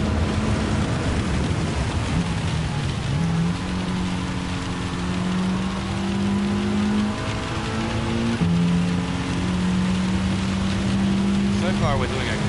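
A Mitsubishi Gr.4 race car drones at high speed in wet conditions in Gran Turismo 7, its engine note rising and falling through gear changes over a constant hiss of rain spray, loud and continuous.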